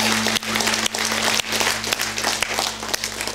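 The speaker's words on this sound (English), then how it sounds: "If you love Jesus, would you give him a big hand clap right now?" Congregation applauding during a church sermon, a steady wash of many hands clapping at moderate loudness, continuous for the whole few seconds with no talk over it.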